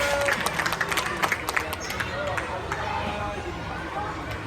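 Applause for a group of children during an outdoor ball game, with scattered claps over a chattering crowd and the sound of running. An adult voice speaks over the noise.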